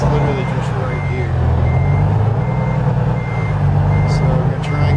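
An in-game truck reversing in American Truck Simulator, its backup alarm beeping in a steady repeating rhythm over a loud, low diesel engine drone, with someone talking throughout.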